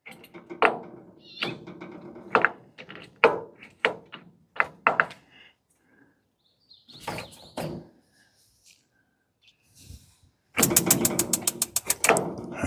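A Ninja FlexFlame grill with a half griddle being ignited: a series of close clicking, ratcheting knob turns, a pause, then a rapid, louder burst of igniter clicks near the end.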